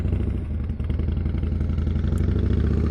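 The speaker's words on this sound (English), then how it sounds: "Now that motorcycle, which sounds like a Harley Davidson" A loud, steady motorcycle engine rumbles with a deep, lumpy low-end throb and no voices present.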